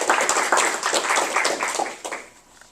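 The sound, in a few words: audience applause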